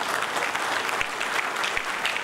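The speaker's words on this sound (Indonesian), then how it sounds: "Marilah kita sama-sama memberi tepukan kepada beliau" An audience at a 2016 consumer forum in Malaysia applauds Datuk Syed Mansur of Adabi, producing dense, steady clapping that runs loud and unbroken throughout, with no voices over it.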